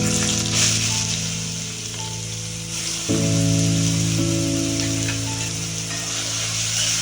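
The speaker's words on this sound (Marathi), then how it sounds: "तर आपण पहिला फोडणीमध्ये टाकू." Chopped onion dropped into hot oil for tempering while cooking a Kolhapur-style whole masoor dal, giving a steady close sizzle and frying crackle that swells after a few seconds, with a tonal hum running underneath.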